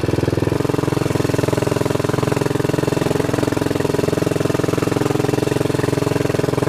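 Royal Enfield motorcycle engine running steadily close up with a loud, fast, even thumping rhythm, a slight shift in tone just after the start, no talk over it.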